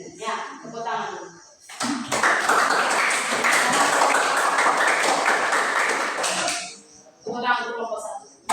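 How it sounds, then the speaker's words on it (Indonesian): A classroom group claps together for group 1, a dense burst of many hands lasting several seconds, with a teacher's voice talking before and after it. "Tepuk tangan dulu kelompok 1."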